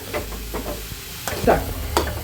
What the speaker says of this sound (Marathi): 5 ते 7 मिनिटं थोडं हे शिजवून घ्यायचं बारीक गॅस नंतर। मी आता थोडी जाड कढई घेतलेली आहे